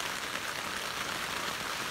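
Torrential rain drums on a tunnel tent over a boat at anchor, a dense, steady hiss of drops that stays even throughout.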